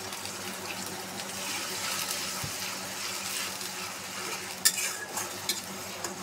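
Onion paste going into a hot pan for chicken kofta, with steady soft sizzling and scraping stirs, plus a few sharp utensil clinks near the end.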